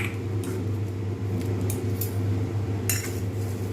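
Crisp fried potato sticks, mixed with black salt and nuts, are tossed in a bowl, giving close, light clinks and rustling scrapes over a low steady hum.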